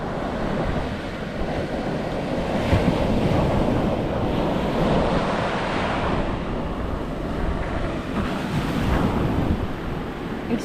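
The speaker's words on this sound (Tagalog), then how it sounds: "Sarap ng alon." Waves break and wash steadily along an island shore at Saraya Island, a full rolling roar of surf mixed with wind rumble on the microphone, swelling and easing over several seconds with no voices.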